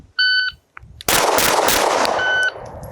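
A pistol shot fired during an FBI qualification course on a range, a single sharp close crack followed by a long noisy decay, with electronic beeps before and after it.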